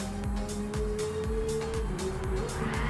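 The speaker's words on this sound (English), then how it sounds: "Some donut e-brake action there." Race car doing e-brake donuts on the Tokyo Expressway circuit in GT Sport, its engine revving up and down in repeated swells with sustained tire squeal running through the whole stretch.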